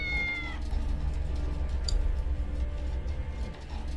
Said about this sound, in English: I'm sure there's a cat behind.